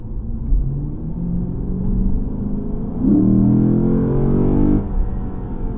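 A Lexus GS F V8 in Sport S mode rumbles loudly at close range, its low drone swelling as the revs climb partway through, then settling back to a steady idle-like growl.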